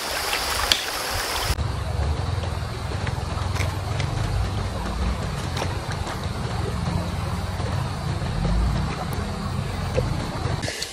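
A river runs through a cool, breezy stretch of Mindanao countryside, giving off a steady broadband rush of flowing water with faint wind, constant and fairly close for the whole stretch.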